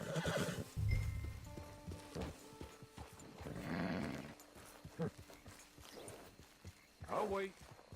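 Horses in the video game Red Dead Redemption 2 whinny and snort with clip-clopping hooves, several neighs rising close by while a voice talks intermittently over them.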